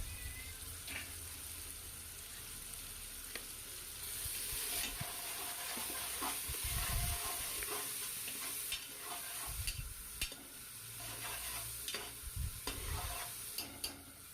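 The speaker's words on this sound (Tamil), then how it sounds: "ஆட் பண்ணி அதையும் நல்லா கிளறி விடணும்." Coriander leaves stirred into a biryani mixture frying in a cooker, with quiet scraping strokes and soft sizzling, plus a few louder clunks of the spoon against the pot, close and faint throughout.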